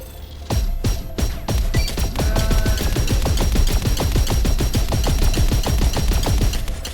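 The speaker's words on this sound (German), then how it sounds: "Die Schüsse sehen geil aus." Rapid gunfire in the video game Shoulders of Giants, dozens of sharp shots in quick succession after a few opening blasts, loud and continuous over a faint electronic hum.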